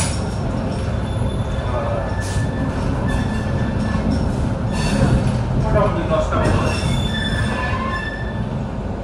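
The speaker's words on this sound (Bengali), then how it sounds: "ঠিক 8:55 কুলিক এক্সপ্রেস ছেড়ে গেল হাওড়া স্টেশনের 7 নম্বর প্ল্যাটফর্ম" The Kulik Express pulls out of platform 7 at Howrah station, heard from a Vistadome coach: a loud continuous rumble of rolling wheels with squeals and clicks of rail joints throughout.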